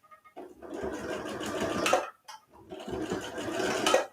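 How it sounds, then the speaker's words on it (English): A sewing machine stitches elastic into the waistband fold of pajama pants in two close bursts of rapid, whirring needle chatter separated by a short pause. "as you're sewing, keep your elastic pushed up against that fold at the top"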